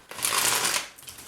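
Tarot cards are shuffled in one quick, crisp riffling burst lasting under a second, close and fairly quiet, followed by a softer shuffle of the deck.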